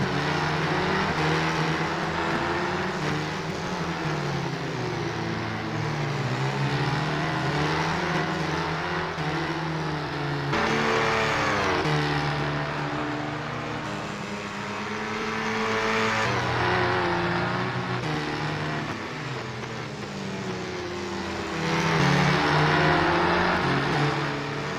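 Formula 4 race cars racing at Knockhill in the British Formula 4 Championship, with a continuous layered engine roar that rises and falls as the cars rev and pass, loud and sustained.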